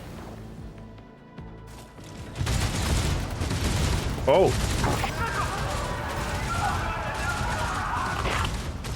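In Warhammer 40,000: Rogue Trader, a burst of transmitted gunfire and chaotic combat noise erupts after a quiet opening, dense and loud, with crashing and a short voiced exclamation mixed in.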